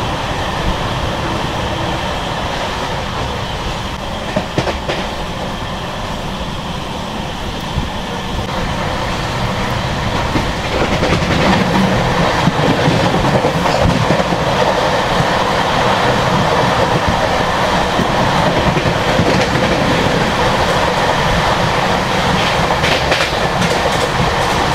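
The Howrah to Kalka Netaji Express, a new LHB passenger train, runs on its rails with a loud, steady rumble and rhythmic clickety-clack that grows heavier partway through. No one speaks over the close, continuous roar.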